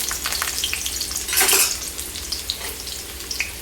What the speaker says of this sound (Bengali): পাঁচফোড়ন দেওয়ার পরে আমি এতে দিয়ে দিব একটা পেঁয়াজ কুচানো